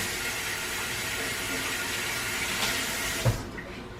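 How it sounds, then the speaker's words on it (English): Kitchen tap water runs in a steady, soft stream into a sink during hand washing, fairly faint and continuous, ending with a brief knock as it shuts off. "Wash my hands real quick."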